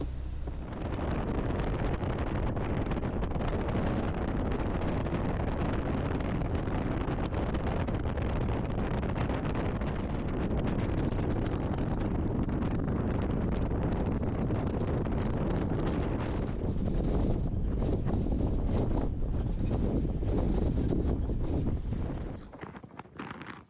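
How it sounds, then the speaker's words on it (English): Strong wind on a beach along a rough, choppy seashore, roaring and buffeting the microphone in a steady loud rumble for the whole stretch, with no one talking. "So it's very, very windy out here and really rough on the water."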